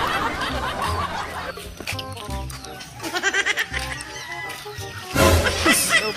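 A chicken clucks in short, uneven bursts over a busy, noisy background, with faint voices nearby.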